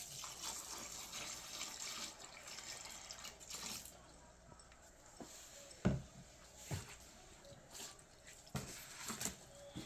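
Warm water pours and trickles quietly into a cleaning tank, with faint splashes and drips and a few sharper splats, low in level with background room noise.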